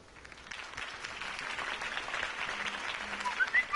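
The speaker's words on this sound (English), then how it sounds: "could have heard that applause" A crowd applauds in the video game Batman: The Telltale Series, the clapping faint at first and growing louder and fuller, with a few sharp cheers near the end.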